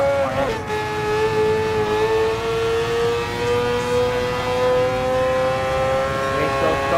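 The rotary engine of a Mazda 787B race car in Gran Turismo Sport drones loudly and steadily, a sustained high-pitched wail that holds a near-constant pitch after a brief dip at the start, close and dominant throughout.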